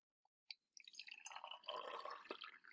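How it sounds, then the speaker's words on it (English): Hot water is poured into a glass beaker, a faint quiet trickle that begins with a few drips, then becomes a steady splashing fill lasting about two seconds. "I'm going to pour some hot water in this one."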